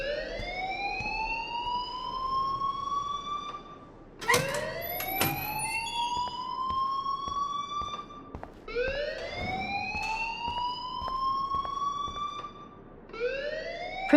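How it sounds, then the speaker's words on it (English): A school fire alarm in the video game Life Is Strange wails in repeated rising sweeps, each lasting about four seconds, loud and continuous with short clatters between cycles and no talking. "please turn off that alarm since that's your job"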